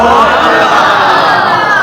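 A crowd at a religious sermon shouting slogans in unison, a loud, dense roar of many voices that holds steady and sustained throughout, close and full.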